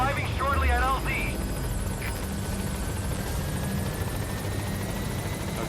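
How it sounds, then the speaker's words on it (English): Helicopter arriving at a landing zone in Metal Gear Solid V: The Phantom Pain, a steady rotor hum and drone throughout, with a brief voice near the start. "And then helicopter, pick up Please select a landing zone."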